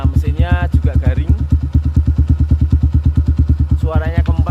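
A 2000 Honda Tiger motorcycle engine, modified in Suzuki Bandit style, idles with a steady, loping thump, loud and close, while someone talks over it.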